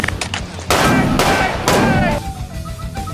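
Gunfire aimed at a player in the Roblox game Brookhaven, two loud bursts of shots ringing out close by in quick succession amid other game noise, followed by a fading tone.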